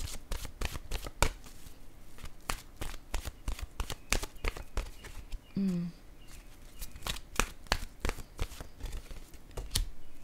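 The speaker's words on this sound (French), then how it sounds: "Je vais déposer maintenant une carte de mon oracle de l'âme intuitive." Oracle cards being shuffled near and close, a rapid run of crisp riffling slaps and flicks that continues steadily for about ten seconds, with a brief low murmur partway through.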